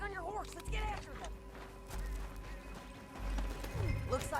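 Horse hooves pound in a rapid galloping rhythm while riding through a canyon in the video game Red Dead Redemption 2, mixed with music, game effects and a voice speaking.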